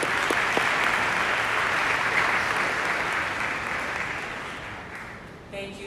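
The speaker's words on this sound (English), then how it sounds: "Please give her a round of applause." An audience at a Congressional Black Caucus installation ceremony gives sustained, dense applause that slowly fades toward the end, where a voice briefly starts speaking.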